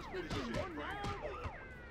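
Police sirens from the video game GTA Vice City Stories, several overlapping wailing and yelping tones sweeping up and down continuously, fairly loud with game background underneath.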